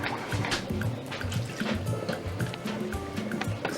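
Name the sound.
blended vegetables poured into soup pot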